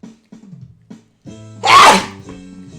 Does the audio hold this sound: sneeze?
yes